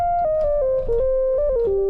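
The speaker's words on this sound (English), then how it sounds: "This is what the Rnb lead sounds like." A smooth, mellow old-school R&B lead synth, a Korg Triton sound, plays a slow stepping melody of sustained notes over a soft low beat, clear and upfront.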